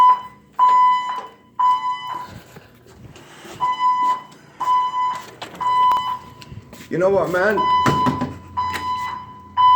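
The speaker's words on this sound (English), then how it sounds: "Is it a religion for a fire alarm to go on once a week in this building?" A building fire alarm going off in repeated on-off bursts of a shrill, high electronic tone, with someone talking loudly and angrily between and over the blasts.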